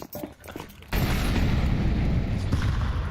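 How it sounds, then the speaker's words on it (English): A flashbang grenade detonates in a Counter-Strike match, a sudden loud boom after a quieter stretch, followed by a sustained ringing wash of noise. "Single flashbang here for Try."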